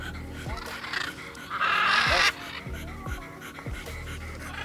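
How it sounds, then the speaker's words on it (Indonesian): A tired dog pants rapidly and heavily close by, with short rhythmic breaths, a brief whimpering strain in the middle, and a few low thumps. "Capek dia langsung ngos-ngosan."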